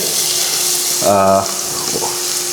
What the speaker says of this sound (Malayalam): ഒണിയൻസ്, അതായത് സവാളയാണ് ഇട്ട് കൊടുത്തിരിക്കുന്നത്.